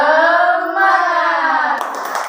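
Children in a sixth-grade classroom chant in unison for a moment, then break into a short burst of rhythmic clapping near the end.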